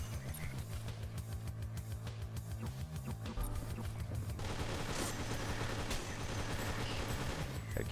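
Rapid automatic gunfire in the video game Parkside: Decayed Soul Manipulation, loud and continuous bursts over a steady low game soundtrack, growing denser and harsher midway through.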